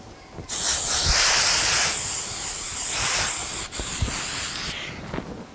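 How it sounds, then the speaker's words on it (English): An aerosol hairspray hisses in a long continuous burst while styling hair for a dance recital, briefly easing and resuming, with a softer pause before the spray stops. "you use more hairspray"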